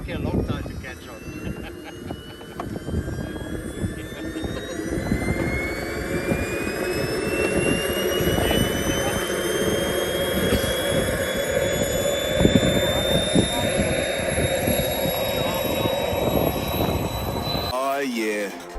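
A large RC jet airplane with a 3.2 meter wingspan roars nearby at an RC club in Abu Dhabi, its turbine whine rising steadily in pitch while people talk over the loud, continuous engine noise.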